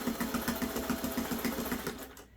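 A sewing machine stitches binding onto an antique grandmother's flower garden quilt, running in a steady, fast rhythmic chatter close by that holds for about two seconds before stopping abruptly.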